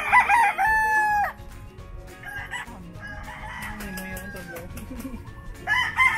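Fighting roosters crow loudly and close by on a hacienda in Negros Occidental, one long call at the start and another at the end, with clucking and faint voices in between.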